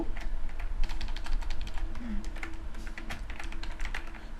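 A Google search being typed on a computer keyboard, a quick, steady run of close key clicks over a low background hum, with no talk.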